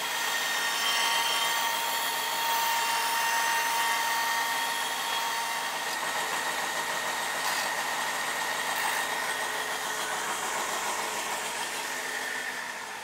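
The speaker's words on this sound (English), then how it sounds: "After a little grinding to clean up the edges of the shovel pan" A grinder works the edges of a steel fireplace shovel pan, giving a loud, continuous high whine that holds steady at close range before easing off slightly at the end.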